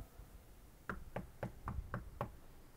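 Six evenly spaced knocks on a wooden pulpit, struck like knocking on a door, fairly faint and close, with quiet room tone between the raps.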